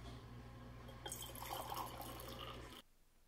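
Hot water pours for matcha tea, a soft liquid stream splashing into a cup for under two seconds over a low background hum, then cutting off abruptly.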